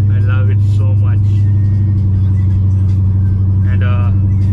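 Custom bagged Chevy C10 square body truck with air-ride suspension driving, a loud steady low engine drone filling the whole stretch while people talk briefly over it.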